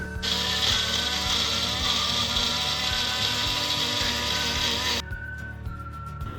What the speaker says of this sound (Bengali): তো এটাকে ফার্স্টে অল্প একটু জল দিয়ে ব্লেন্ড করে নেবো